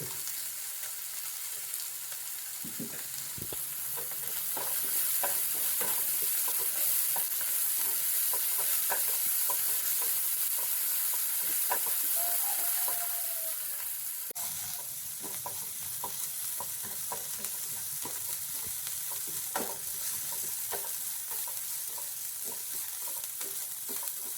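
Onions sautéing in a pan for a Tamil breakfast snack, a steady sizzle that runs throughout and swells louder midway, broken by scattered clicks and scrapes of stirring, with no one speaking.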